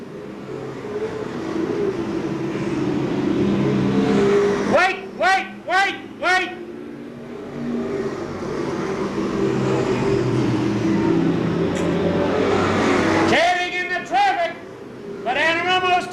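Stock cars race at Seekonk Speedway during a 1995 weekly event, and a steady engine drone from the pack runs beneath continuous trackside commentary.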